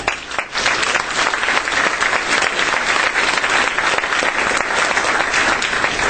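An evening meeting audience breaks into steady, sustained applause, a dense wash of many clapping hands that stays loud and even throughout.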